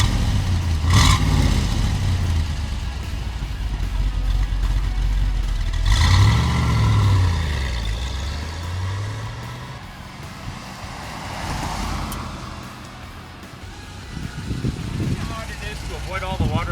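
A 1963 Chevrolet Corvette convertible engine fires up and revs, the low rumble rising and falling in several throttle blips while people talk close by.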